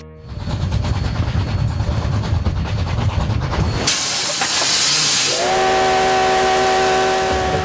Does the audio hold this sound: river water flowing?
no